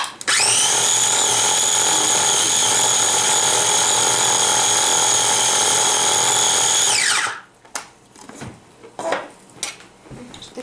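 Roasted peanuts churned into peanut butter in a home electric grinder: a loud, steady high-pitched motor whine for about seven seconds, then it winds down and stops, leaving soft clatter and handling noises.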